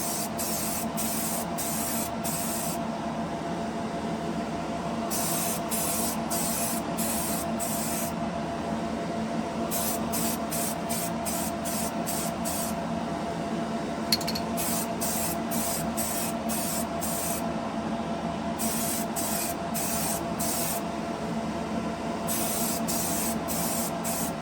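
Spray paint being applied to an RC crawler body in repeated coats, a steady loud hiss running throughout with rhythmic bursts and short breaks between passes, close to the mic.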